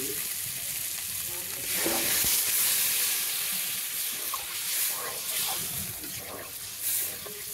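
Water poured into a hot pan of fish sets off a loud, rushing sizzle that swells and then settles into steady frying hiss, with a voice speaking over it.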